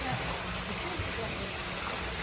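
Steady rushing of water at an old forge with a trip hammer and a mill, a constant broadband wash with no talking heard.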